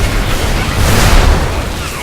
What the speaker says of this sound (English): Wow, that's a big explosion.